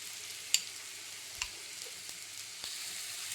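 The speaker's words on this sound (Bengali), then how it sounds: "এখানে আমি গোবিন্দভোগ চাল আর ডাল ধুয়ে রেখেছি, এই চাল ডালটা দিয়ে দেবো তেলের মধ্যে। এটাকেও ভেজে নেবো ভালো করে।" Washed Gobindobhog rice and dal fry in white oil in a pan, with a soft, quiet sizzle and a few faint clicks from stirring.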